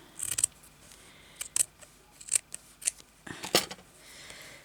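Sharp scissors cut fabric to trim a needle roll, with a series of quick, close snips, some single and some doubled, ending in a louder burst of cutting.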